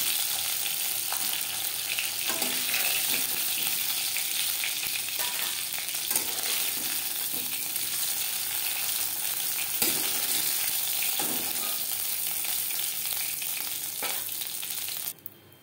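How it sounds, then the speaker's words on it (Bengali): Whole cumin seeds sputter in oil left over from frying singhi fish, making a continuous close crackle and hiss that holds evenly until it cuts off abruptly near the end. "মাছ ভেজে নেওয়া তেলে ফোড়নে দিয়ে দেব গোটা জিরে"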